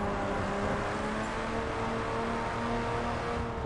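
A 2011 BMW Z4 street edition with 412 hp and a paddle-shift gearbox holds a loud, steady engine drone with a humming tone, close and continuous, with no talk over it.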